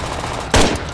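Loud, close bursts of automatic gunfire aimed into a building in the military shooter game Project Reality, two sharp volleys cutting through a rumbling background.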